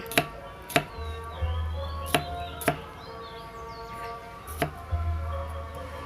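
A knife chops bitter melon on a cutting board, giving about seven sharp, separate strikes at an irregular pace over a low steady hum, with faint bird chirps in the background.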